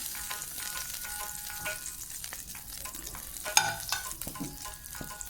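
Leftover idli frying in butter in a pan, with a soft continuous sizzle broken by scraping stir strokes and one sharper clink of utensil on the pan.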